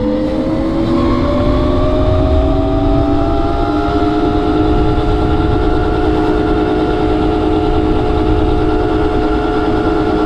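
Evoltrix X7 electric dirt bike riding in gear, a loud continuous electric motor whine that slowly rises in pitch over heavy rumbling wind and ground noise, no talking.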